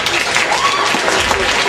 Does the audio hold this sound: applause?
yes